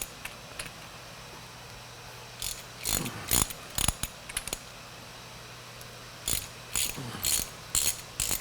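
A socket wrench ratchets off 7/8-inch bolts on a Pearl lathe headstock during gear removal, giving several close, sharp bursts of rapid clicking separated by short pauses over a quiet background hum.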